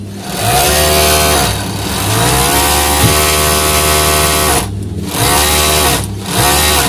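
Overlock sewing machine with an oil supply fault, running loud and close in long bursts of rapid whirring with brief pauses between runs.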